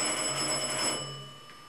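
A telephone rings in a domestic interior, its bell tone sustained and fairly loud, then fading off toward the end with no voices over it.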